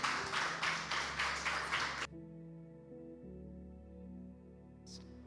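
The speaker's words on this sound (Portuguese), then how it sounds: "Uma salva de palmas ao Senhor Jesus." A church congregation claps together in a quick, loud, rhythmic burst for about two seconds. It cuts off abruptly, leaving sustained keyboard chords and a faint bright accent at the end.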